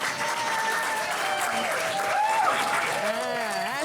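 Panel audience at a Race & Resistance event applauds, a continuous wash of clapping with voices and cheers rising over it toward the end.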